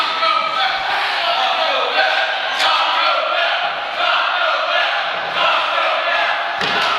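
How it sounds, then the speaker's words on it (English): Wrestling crowd at a T3 2017 semi-final match, Action Ortiz vs. Tony Deppen, chanting loudly and steadily for Taco Bell, a dense roar of voices filling the whole stretch. "The crowd seems to be hungry. They're chanting for Taco Bell."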